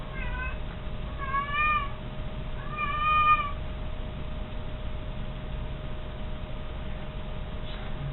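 A pet cat meows twice at close range, two short rising-falling calls in quick succession over a steady low hum, followed by quiet background noise.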